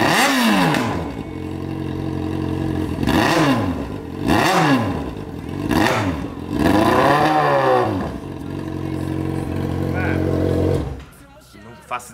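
A misfiring Yamaha XJ6 motorcycle engine idles roughly, with several uneven rev surges that rise and fall, stuttering and loud, before it cuts out near the end.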